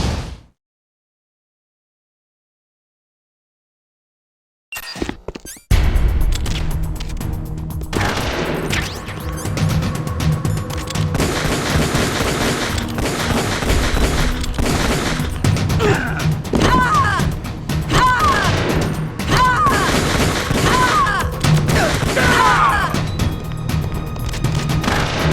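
Gunfire and crashing action from Metal Gear Solid: The Twin Snakes, a dense, continuous barrage of shots and impacts bursting in after several seconds of silence and running loud to the end.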